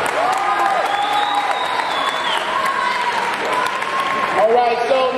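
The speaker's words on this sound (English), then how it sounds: "let's give another round of applause for our 2009 Student Delegate candidates." Applause and cheering from a school forum audience at Mission High for 2009 student delegate candidates, a dense steady wash of clapping with raised voices and whistle-like tones layered over it throughout.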